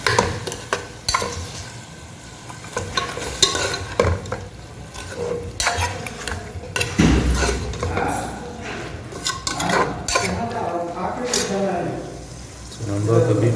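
Beef sautéing in oil in a pot for a Ramadan beef biryani: a steady sizzle runs under repeated metal spoon scrapes and clinks against the pot, with a voice talking at times.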